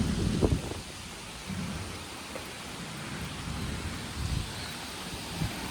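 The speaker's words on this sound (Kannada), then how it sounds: "ಫುಲ್ ಜೋರೇ ಹೊಂಟದ ಮಳೆ ಈಗ" Dense, steady rain pours down in a constant hiss, with a few low rumbles and closer splashes rising through the downpour.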